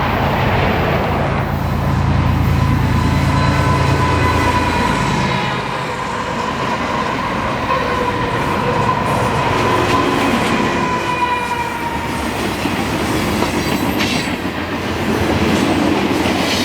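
A Union Pacific freight train led by locomotive UP 7768 hauls a long westbound manifest past at close range, with a loud continuous rumble, rhythmic wheel clatter and thin metallic squeals from the cars rolling by.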